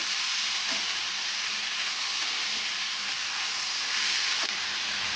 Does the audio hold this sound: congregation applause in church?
no